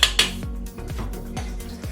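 Doughnut batter spooned into the hot compartments of a mini doughnut pan, a few sharp metallic clinks and taps of spoon against pan in quick succession, close and fairly loud.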